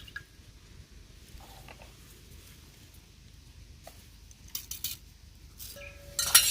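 A spoon clinks and scrapes in a bowl while food colour is stirred into a grape sweet mixture, a few faint, sparse metallic taps over quiet kitchen background.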